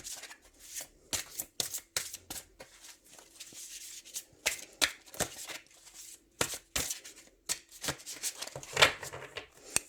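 Tarot cards are shuffled by hand, close and quiet, in rapid irregular bursts of riffling flutter and soft slaps, with brief pauses between bursts.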